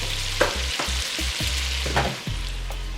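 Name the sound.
meat searing in a pan on the stove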